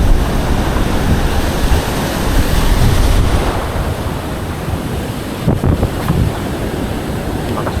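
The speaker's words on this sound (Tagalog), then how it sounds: "Lakas yung hangin" Strong wind blows at the seashore during shore casting, a loud, continuous rush mixed with surf roar and microphone buffeting, with no voices.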